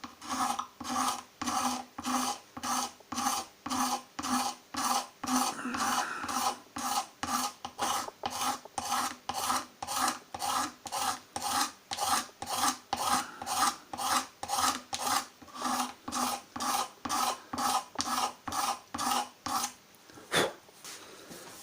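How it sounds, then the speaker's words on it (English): Sandpaper rubs by hand against guitar binding to bring it flat, a steady rhythmic rasp of about two strokes per second that repeats evenly and close up for roughly twenty seconds, with no talking. "then we'll get the sandpaper in, and hopefully it's got to look alright once it's done"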